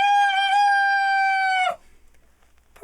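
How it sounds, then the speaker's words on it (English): A rooster crows loudly and strainedly in one long, sustained, harmonically rich call that cuts off abruptly, followed by quiet background. "they heard a loud and strained rooster that was crowing with"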